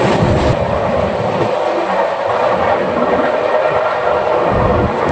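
Tamralipta Express on the Howrah to Digha line passing Mourigram, heard from on board as a loud, continuous rumble and hiss of wheels on the tracks.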